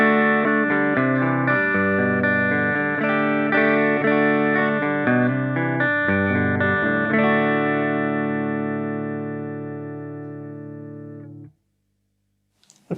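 Electric guitar played through an Artisan 10 amplifier with EL34 power tubes, strummed chords ringing with reverb for about eleven seconds, then fading out into silence.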